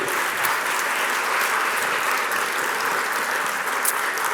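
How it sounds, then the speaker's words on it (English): An audience at a business talk event applauds to welcome a speaker onto the stage, a continuous, thick wash of clapping at steady loudness throughout, with no speech. "let's give him a big round of applause and a warm welcome to Tomasz Stachlewski."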